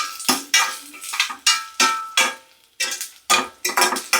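Garlic is fried for tempering in a kadai already used for frying green chillies, for a ridge gourd chutney, with a spatula clanking and scraping against the pan in quick, irregular strokes over a soft sizzle.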